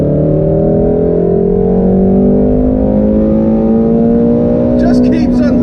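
A Shelby GT350 or Ferrari 458 sports car engine revs loud and close, its pitch climbing steadily toward high RPM during a drive in Las Vegas, with a brief burst of higher-pitched noise near the end.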